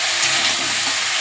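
Fish sizzling and frying in a pan with cumin tempering while a Bengali bhetki curry with mustard, poppy seed and yogurt is cooked, a steady close hiss with faint stirring and no talk.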